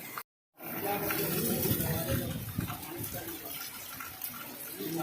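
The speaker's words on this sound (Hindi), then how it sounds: "तेज धुआंधार बरसात रफ्तार में तेज पवन के साथ में यहाँ पर शुरू हो चुका है" Heavy rain driven by strong wind pours down steadily in an outdoor spot in Naya Nagar, Barhaj, making a dense, continuous roar after a brief dropout at the start.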